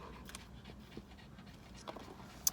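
A dog named Lola pants softly in quick, faint breaths close by, with a few small rustles and a brief sharp tick near the end; no one speaks.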